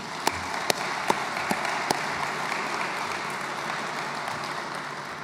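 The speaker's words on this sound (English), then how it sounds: "a round of applause for their work in putting this conference together" Conference audience applauding steadily for several seconds, a broad, even wash of clapping in a large room, with a few louder individual claps cutting through early on.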